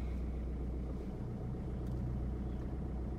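A learner driver's car eases away from a stop on the clutch alone, a steady low engine rumble that stays even and fairly quiet throughout, with no voices.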